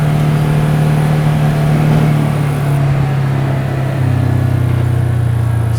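A vehicle engine drones steadily as it drives down a ditch beside an overgrown trail, a loud, continuous low hum that barely changes in pitch and has no voices over it.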